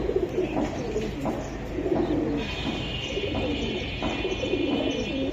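Silver Giribaz pigeons coo repeatedly at a seller's, soft rolling low calls overlapping close by, with a faint steady high tone entering partway through.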